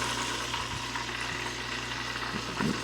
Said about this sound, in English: We're deep frying mushrooms